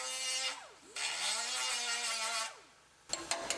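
Power tool grinding out seam welds on the apron and apron support of a 2019 Ford Explorer, loud steady whine that rises and falls in pitch across two long passes, then stops, followed by a few sharp metallic knocks.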